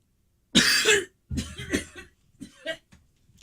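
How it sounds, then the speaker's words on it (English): A single person coughs: one loud, harsh burst followed by a few weaker rasping coughs and throat-clearing sounds, close and spaced out, with silence between them. "Don't cough."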